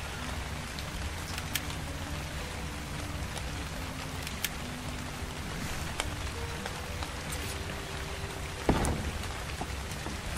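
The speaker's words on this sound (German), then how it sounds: "Oder es wird ein richtiges Gewitter. Dann wird es auch dunkel." Steady thunderstorm rain patters on surfaces in the survival game Ark, a dense hiss with scattered drop ticks and a sharp thunder crack late on; a voice speaks briefly.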